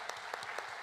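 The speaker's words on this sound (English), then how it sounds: "let's clap for her" Brief burst of audience applause at a hospital staff awards ceremony, a short spatter of claps from a gathered crowd, fairly faint and distant.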